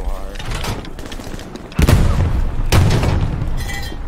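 Gunfire in the Hell Let Loose World War II game, with loud booming shots around 1.8 and 2.7 seconds over a steady din of battle and crew chatter.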